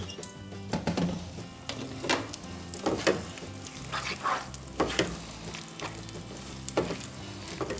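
Eggs with a little milk, salt and pepper stirred into spaghetti in a hot pan for a frittata: steady sizzling frying with repeated scraping and clinking stir strokes, close and fairly loud, no talking.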